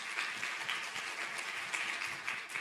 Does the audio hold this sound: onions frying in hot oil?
no